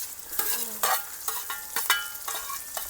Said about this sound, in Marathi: आता गरम गरम तेलामध्ये आपण घालून घेऊ ते म्हणजे बारीक चिरलेला कांदा आणि टोमॅटो